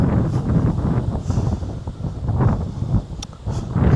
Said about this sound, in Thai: ลมแรงมาก ๆ เลยนะ